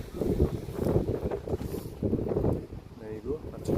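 Gusty wind buffets a camping tarp strung on a ridgeline with poles, pegged at only two corners, rushing and flapping in uneven surges close to the microphone while a person talks over it.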